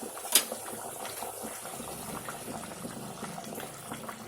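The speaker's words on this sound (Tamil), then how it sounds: "இப்போ குழம்பு நல்லா கொதிச்சிருச்சு" Sardine (mathi meen) fish curry simmers in a clay pot on a gas stove, giving a faint, low bubbling burble with a single sharp tap near the start, quiet and steady.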